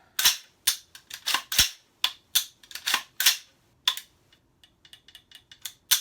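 Sharp mechanical clicks and snaps from an M16A4 rifle during a function check, a rapid irregular series of crisp, close metallic clacks, some louder and some lighter, with no talk.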